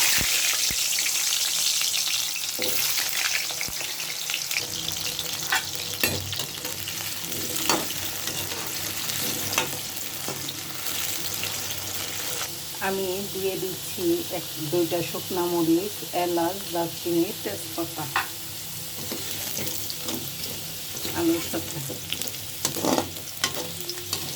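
Potatoes frying in a pan of hot oil, a steady close sizzle with stirring and scraping clatter throughout, busier bubbling in the second half, with no one talking.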